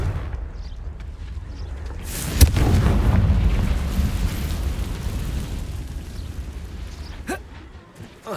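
A Confringo blasting curse explosion in Hogwarts Legacy bursts with a sharp crack, then rolls into a deep rumbling blast that fades slowly over several seconds, with a second sharp crack near the end.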